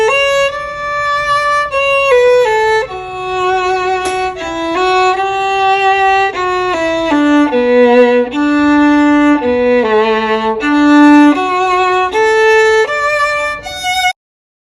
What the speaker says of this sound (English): you bring the bow on top of the string like this to make beautiful music.